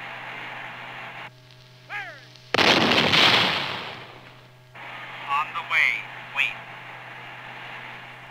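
Cannon firing a Copperhead cannon-launched guided projectile gives one loud, sharp blast that rumbles for about two seconds, set amid radio-like electronic tones and chirps.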